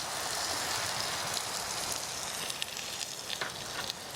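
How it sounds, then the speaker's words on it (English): Camping stew in a cast-iron Potjie pot over an outdoor fire, sizzling and crackling steadily in a constant hiss with a few sharper pops, no voices. "Can you hear the sizzling?"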